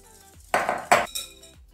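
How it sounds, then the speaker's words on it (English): A metal whisk mixes castor sugar into an egg mixture in a bowl, giving three quick, close clinks and scrapes against the bowl, with quiet moments between them. "You put it into your egg mixture, take your whisk,"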